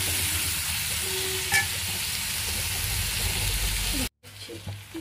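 Onion-based ingredients for chicken manchurian sautéing in a pan, a dense close sizzle with a few stirring scrapes that cuts out briefly near the end before resuming.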